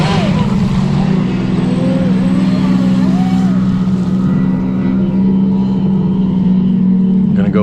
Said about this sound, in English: Gonna go full throttle now.